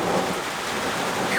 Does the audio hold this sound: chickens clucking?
no